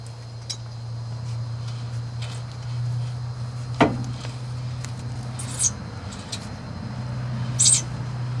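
A worn front ball joint on a 1995 Ford Crown Victoria gives one sharp clunk as the unloaded steering knuckle is turned by hand. Faint clicks follow over a steady low hum, with no talking.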